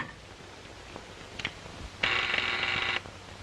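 An old telephone bell rings once in a single clear, loud burst of about a second, following a few faint clicks and taps in a quiet room.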